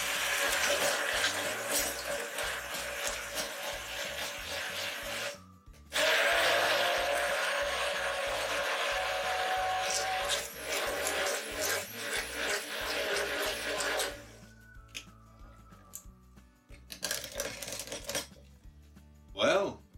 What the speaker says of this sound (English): The main reason why I prefer the immersion blender is because you just need the container where you're going to mix, plug it, this, and ready to go